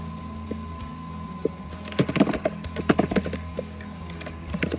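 A computer keyboard types a command into a network configuration program, a burst of quick, close key taps starting after a short quiet pause and clattering on with uneven rhythm, no voices present.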